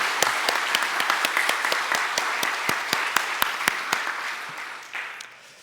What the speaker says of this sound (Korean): 제가 한번 박수를 한번 영광 돌리고 싶습니다